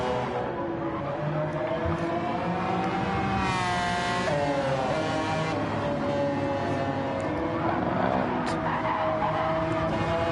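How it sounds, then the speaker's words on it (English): The number 1 McLaren heads out onto the Suzuka circuit during a 1000km Legends event, its engine note rising and shifting through revs with brief tire squeal, loud and fairly close with no speech over it. "the number 1 McLaren now getting on track"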